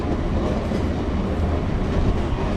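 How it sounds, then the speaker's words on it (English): A Pakenham suburban train passes near a station in South Yarra, Melbourne, a loud, continuous rumble and rattle of wheels on rails heard close by and alone. "So that's one of the Pakenham trains."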